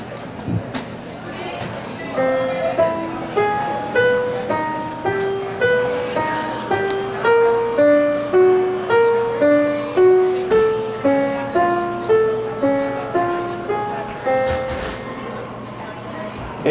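A steady, algorithmically generated series of plucked, bell-like pitches steps up and down in an unpredictable melodic pattern, evenly paced and continuing without pause over a faint background hiss.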